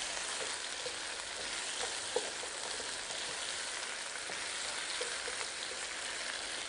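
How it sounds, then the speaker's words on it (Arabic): Shrimp stir-fry with garlic and pepper for fried rice in a hot pan, giving a steady, hissing sizzle with occasional soft clicks of stirring, close and even, with no talking. "الثوم مع الجمبري مع الفلفل تقليب خفيف كده."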